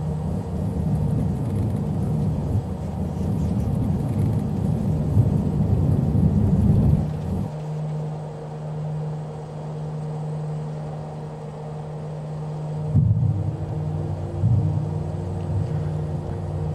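A Mooney M20R single-engine plane in Microsoft Flight Simulator, run up to full power for takeoff, gives a steady loud engine drone that later drops to a lower, smoother hum with a tonal whine.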